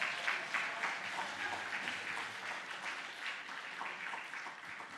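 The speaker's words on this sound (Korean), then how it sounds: "우리 박수로 맞이하겠습니다" Church audience at a Sunday afternoon service clapping steadily to welcome a young speaker to the front, a sustained, moderately distant round of applause with no talk over it.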